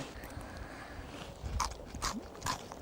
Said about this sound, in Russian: Так приятно хрустит во рту